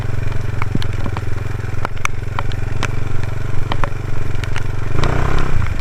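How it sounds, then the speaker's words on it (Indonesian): A Satria FU off-road motorcycle in heavy rain roars close and loud, its engine held at a steady high drone with scattered clattering ticks, and it swells briefly near the end as the throttle opens and the rear tire slips in water. "Wah, habis saya betot gasnya guys, dan ban belakang tuh itu apa, slip."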